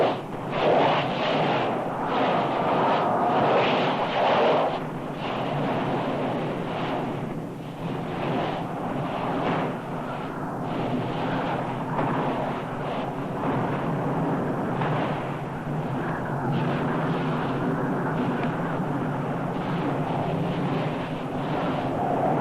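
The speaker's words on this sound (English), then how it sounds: "Many times each day, without warning, the molten lava rises hundreds of feet and fills the fire pit." Molten lava lake surging in the fire pit of the Nyiragongo volcano: a continuous deep roar and rumble, steady and loud, with gusty wind buffeting the microphone throughout.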